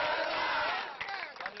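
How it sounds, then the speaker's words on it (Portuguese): Youth football supporters at a Copinha match shouting and chanting together, a loud massed roar that thins and becomes more ragged toward the end. "A torcida continuou gritando"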